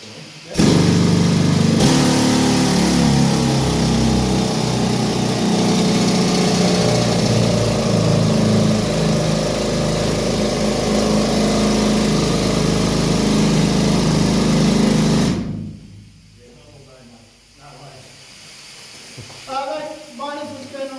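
A pneumatic rock drill runs in an underground mine at Mount Isa, Australia, a loud continuous hammering roar for about fifteen seconds before cutting off, followed by quieter hissing and someone speaking.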